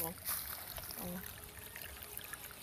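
Water trickles and flows along a stream on a farm in the hills, a steady broadband rush with small splashy bursts, close by and fairly loud throughout.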